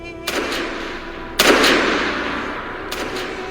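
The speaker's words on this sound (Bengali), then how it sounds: "গুলির শব্দ তখনও শোনা যাচ্ছে।" Gunfire sound effects in a Bengali crime-thriller audio drama: three sharp, loud shots, the second the strongest, each trailing off into a reverberant echo over a low background hum, with no talking.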